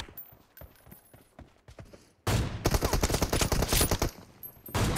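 Rapid gunfire in a sniper-focused team deathmatch shooter game, a few sparse shots at first, then a loud sustained burst of automatic fire.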